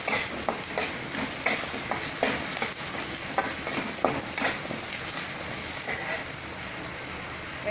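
Onion and garlic sauté in a pan for Tamil egg curry (muttai kuzhambu), giving a steady close sizzle with repeated scraping stirs throughout and no talking.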